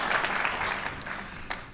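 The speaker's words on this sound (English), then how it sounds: "let's give him a nice round of applause, Mr. Barces." Applause from a crowd at a Veterans Day commemoration ceremony, strong at first and gradually thinning, with a couple of sharp individual claps poking out as it fades.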